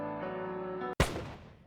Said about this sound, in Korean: 귀를 찢는 총소리가 울렸다.